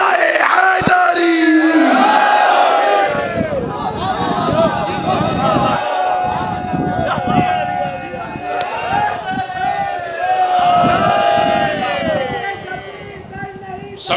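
A crowd at a religious majlis gathering shouts the Nara-e-Haidari slogan with raised hands, loud massed voices rising in repeated chant-like bursts over a reverberant hall, with a leading voice calling out between responses.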